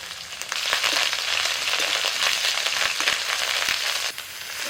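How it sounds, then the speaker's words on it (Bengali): Panch phoron, crushed ginger and chopped green chili fry in hot oil in a pan, giving a dense, steady crackling sizzle that runs throughout with no voices. "তেলের মধ্যে দিচ্ছি পাঁচ ফোড়ন থেতো করা আদা কাঁচা লঙ্কা কুচনো"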